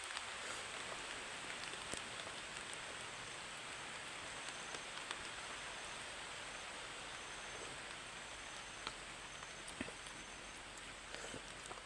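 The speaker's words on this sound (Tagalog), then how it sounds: "lakas ng ulan oh. Inaabot na po tayo ng ulan" Heavy rain pouring steadily outdoors, a dense continuous hiss of drops on surfaces with occasional sharper taps, fairly faint and without any voices.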